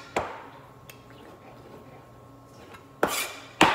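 A knife's back scrapes and knocks against a cutting board while chopped food for chalupas is pushed together, with soft rasping and a few sharp clacks near the end, close and fairly loud.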